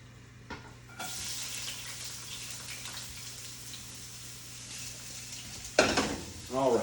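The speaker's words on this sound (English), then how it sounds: "peppers and onions are in the pan. We're going to let those saute for a second" Peppers and onions sauté in a hot pan, a steady close sizzle that starts softly and swells after a second, then a couple of brief louder stirring scrapes near the end.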